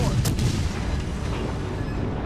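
A naval gun salvo fires in the World of Warships Legends video game, a dense rumbling boom of artillery that rolls on loudly throughout.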